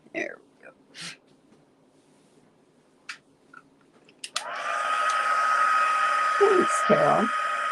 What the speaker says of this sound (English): So I'm just trying to heat set that.